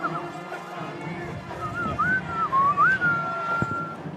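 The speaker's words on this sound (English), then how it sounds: "I'm whistling while I work." A person whistles a short, sliding tune, clear but moderate in volume, over a steady hum of background noise and faint voices.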